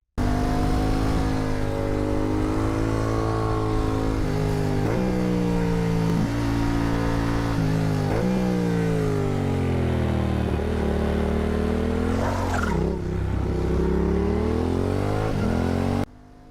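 A motorcycle engine drones loudly and steadily on a twisty road, its pitch rising and falling through repeated throttle changes and gear shifts, with a sharp surge near the end before it cuts off.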